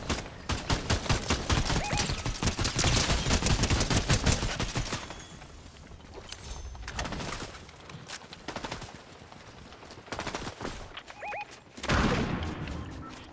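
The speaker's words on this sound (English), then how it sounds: "This shotgun got good range, I'm telling you." Rapid bursts of shotgun fire in a video game, dense volleys for several seconds, then sparser single blasts separated by gaps, with sharp, loud reports throughout.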